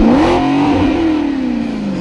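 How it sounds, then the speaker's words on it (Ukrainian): A car engine revs loudly and close in one sustained roar, the pitch rising briefly and then sinking slowly as the revs fall away. "Крута тачка! Це точно. Супер! Як реве!"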